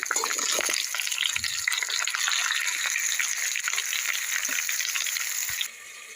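Bhujia sizzles and fries in a pan on a low gas flame, with a loud, steady hiss and small crackles that drop suddenly quieter near the end.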